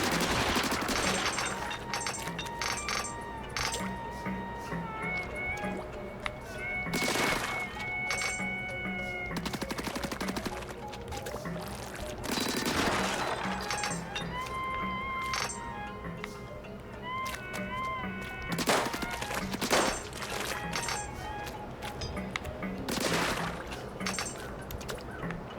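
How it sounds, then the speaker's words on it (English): Rapid bursts of ink shooting in the video game Splatoon Raiders, with repeated sputtering shots over steady game music and effects. "Shoot ink with ZR."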